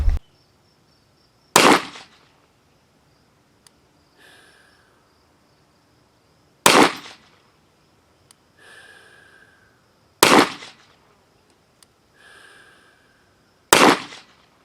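Four loud sharp gunshots at a shooting range, spaced several seconds apart, each a close crack with a brief echoing tail, faint rustling between shots.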